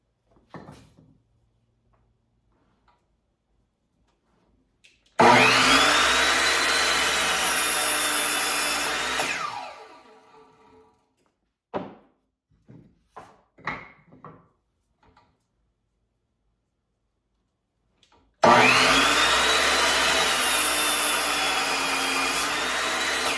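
Wood is sawn for a Starlink mount: a loud rasping power-saw run of about four seconds, then a pause filled with scattered knocks and clatter, then another loud sawing run starts near the end.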